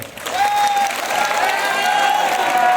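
An audience applauds after a speech at a formal event, steady dense clapping from a crowd, loud and sustained, with a faint tonal sound running underneath.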